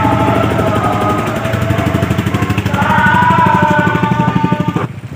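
A motorcycle engine runs steadily and close by as the bike is brought out, a low, even pulsing drone that holds for about five seconds before cutting off abruptly near the end.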